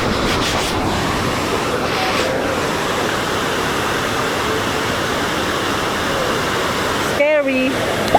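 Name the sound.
water rushing at a dam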